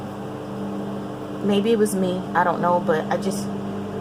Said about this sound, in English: sorry about the noise in the background. Hubby's out there cutting grass.